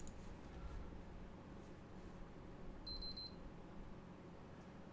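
A game console gives a short electronic beep after an improper shutdown, a brief high tone over a steady low background hum.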